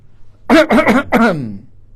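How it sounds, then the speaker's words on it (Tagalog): A few rough, voiced coughs forced from the diaphragm in quick succession, close and loud, trailing off into a breathy exhale. "Paano umubo ng galing diaphragm?"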